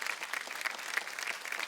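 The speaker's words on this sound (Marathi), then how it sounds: "एकदा जोरदार टाळ्या होऊन जाऊ देत." A studio audience at a Marathi television game show claps in a brief, lively burst of applause, fairly even and moderately loud.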